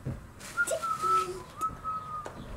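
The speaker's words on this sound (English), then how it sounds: "I have a bird on my shoulder" A pet bird perched on a person's shoulder gives a few thin whistled calls and soft coos, close but fairly quiet, in an otherwise calm room.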